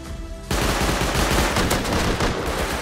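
A Tommy gun fires in the video game Rust, opening with a sudden loud burst after a brief quiet moment. The sustained rapid automatic fire carries on close and harsh until the end.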